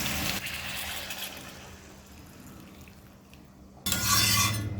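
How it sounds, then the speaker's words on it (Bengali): Hot water poured into a pan of thin snakehead fish curry: a soft sizzling stir, then a sudden loud rushing, hissing gush near the end. "এবার দিয়ে দেব পরিমাণ মতো গরম জল"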